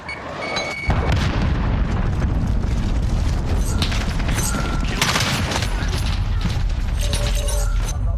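A missile explodes in Call of Duty Modern Warfare hardcore play, with a sudden loud blast followed by a dense, roaring wash of debris and rumble that runs unbroken for several seconds.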